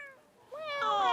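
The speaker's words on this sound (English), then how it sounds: "I'm just cuddling a cat now." A cat meowing close up, one short faint mew followed by a louder, drawn-out rising meow, with no talking over it.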